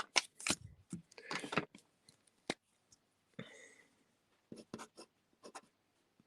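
A pen scratches on paper in short, quiet bursts of close strokes with gaps of silence between them, as notes are jotted for a lot of cut gemstones.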